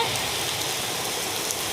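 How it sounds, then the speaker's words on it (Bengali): A heavy hailstorm pelts down outdoors as a dense, continuous hiss of countless impacts. The sound is loud and even throughout, with no voices. "প্রচুর প্রচুর শিলাবৃষ্টি হচ্ছে আজকে আমাদের এখানে"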